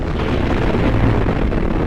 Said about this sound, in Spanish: Es una de las explosiones no nucleares más grandes que la humanidad haya causado jamás